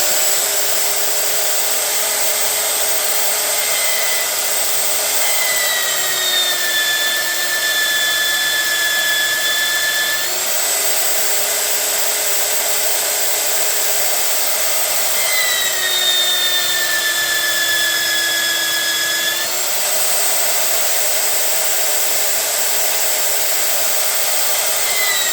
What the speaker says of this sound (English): Okay, turn on the drill.